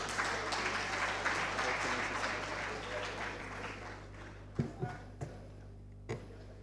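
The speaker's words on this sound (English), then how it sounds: "Please, can you clap properly for him?" Audience applause at the opening ceremony of a national migrant dialogue, a dense, steady wash of clapping for several seconds that thins out and ends in a few scattered late claps.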